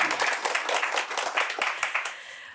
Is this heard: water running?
no